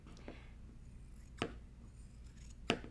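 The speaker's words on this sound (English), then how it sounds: "It's good to have long blade scissors to cut this easier, and you're cutting all 4 layers at once" Long blade scissors cut through four layers of fabric at once, giving two crisp, close snips separated by quiet pauses, with a faint softer snip at the start.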